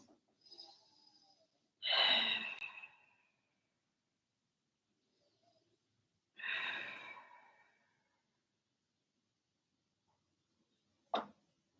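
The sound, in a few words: deep breaths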